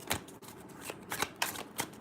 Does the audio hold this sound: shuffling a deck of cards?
yes